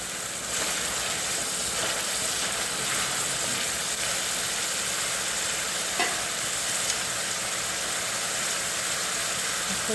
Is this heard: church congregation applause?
no